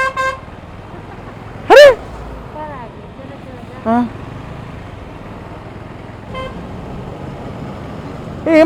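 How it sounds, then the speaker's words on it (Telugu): Vehicles honk loudly in road traffic around a KTM 390 motorcycle on a long ride, with several sharp horn blasts at irregular intervals over a steady traffic rumble, and a man briefly calls out. "నాకు అర్థమైతే లేదు ఎందుకంటే గట్టి గట్టి హారన్లు కొడుతున్నారు"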